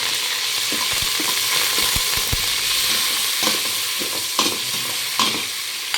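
Pansit noodles cooking in a pan: a steady, loud sizzle of frying runs throughout, with scattered scrapes and knocks of stirring close by.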